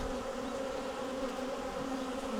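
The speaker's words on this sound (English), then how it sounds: "there was a lot more bees in here than I thought originally." Honey bees buzz inside an open hive, a dense, steady drone of many wings holding close and even throughout with no voices over it.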